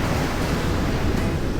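Ocean waves at Ngrawah beach in Yogyakarta make a steady, loud roar of surf, a broad continuous wash with no clear breaks and no voices.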